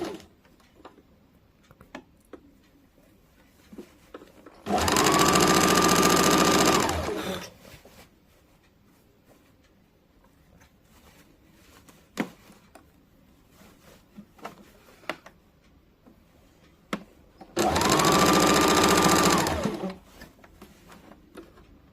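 An electric sewing machine stitches a kurti seam in two loud, steady whirring runs of about three seconds each, separated by quiet handling of fabric.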